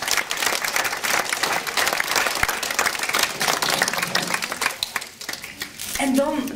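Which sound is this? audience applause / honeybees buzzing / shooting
audience applause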